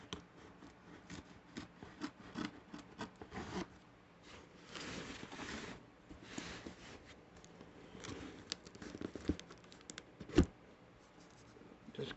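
Scissors cutting open a package of VHS tapes, faint close scraping, snipping and rustling in irregular bursts without speech.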